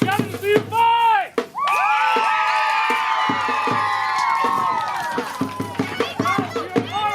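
A crowd at a medieval knights' tournament cheers and whoops in a sustained roar, bracketed by a loud announcer's voice calling out before and after.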